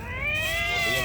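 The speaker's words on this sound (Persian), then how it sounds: "گربه مادر و گربه" A mother cat and her kitten meow in a long, drawn-out, plaintive cry that rises and wavers, loud and close, with no other sounds around it.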